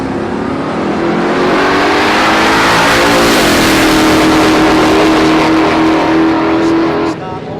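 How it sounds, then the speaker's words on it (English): A Holden Monaro with a 383 cubic inch Chev engine at a drag racing street challenge roars loudly at full throttle, its engine note climbing and shifting pitch through a sustained run, with an announcer talking over it. "Beautiful Holden Monaro out here in lane 2."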